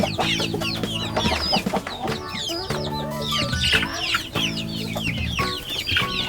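Several chickens clucking and chattering close by at a brooder pen, a steady overlapping flock murmur with occasional sharper calls throughout.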